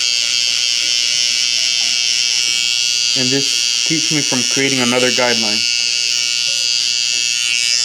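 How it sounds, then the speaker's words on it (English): An electric shaver buzzes continuously and close by while fading a low haircut, a steady high-pitched whir that runs the whole time as someone talks over it midway. "I'm going to go with the shaver."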